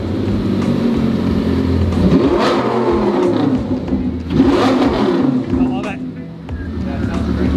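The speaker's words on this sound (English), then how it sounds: "So why don't you get in and fire it up? Cool. Because everybody wants to hear the first start." Lamborghini Gallardo LP 560-4 engine runs loud and close with a deep rumble and two rising revs, while people talk over it.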